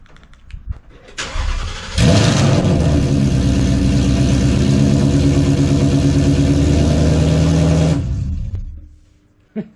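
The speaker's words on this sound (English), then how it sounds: "let's see what it sounds like with no exhaust starting up, cold start" A Ford Mustang S550 cold starts with no exhaust fitted: a sharp crank catches into a loud, raw, rumbling idle that holds steady for about six seconds, then shuts off.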